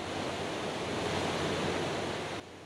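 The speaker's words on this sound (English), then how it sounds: "As it courses over the edge of this weir, an arc-shaped waterfall is created." Reservoir water at Hushan Reservoir in Yunlin, Taiwan, pouring over the edge of a weir in an arc-shaped waterfall: a loud, steady broadband roar of rushing water, close and continuous, dropping away sharply near the end.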